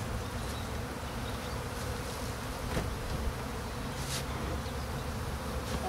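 Honey bees buzz steadily around an opened hive during a March inspection, a dense, continuous low hum with no voices over it.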